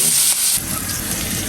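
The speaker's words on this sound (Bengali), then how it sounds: "মাছটা হালকা একটু ভাজি করবো" Fish lightly frying in a pan gives off a steady, close sizzling hiss. It is a little louder at first, then settles into a softer, even crackle.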